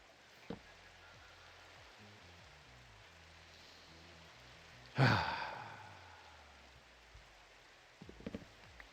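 Soft steady rain patters in a blocky Minecraft-style game world at night, faint and even, with a sharper burst of sound near the middle and a few light clicks toward the end.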